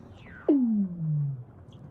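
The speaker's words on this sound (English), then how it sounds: "They're actually the calls of Weddell seals." A Weddell seal calls under the Antarctic ice, a single loud descending sweep that glides downward and trails off, eerie and alone.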